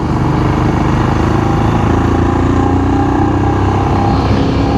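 A Royal Enfield Scram 440 motorcycle climbing uphill on a ride to a mountain temple in Jammu, its engine droning loud and constant from the rider's position, with steady wind noise and no pauses.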